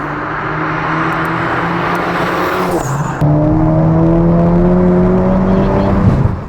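BMW F80 M3 on a test drive for data logging: a steady engine drone whose pitch climbs under acceleration, a sharp shift near the middle, then a louder, rising pull. No talking.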